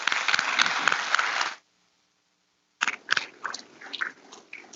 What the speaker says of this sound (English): Give another round of applause to all of our graduates in the United States Army.